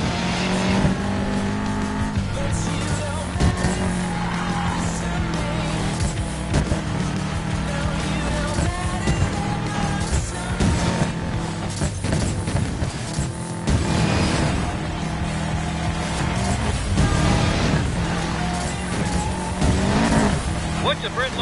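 In Need for Speed Payback, a race car's engine snarls in the desert while tires squeal and skid through repeated hard turns, loud and close, with voices talking over the driving.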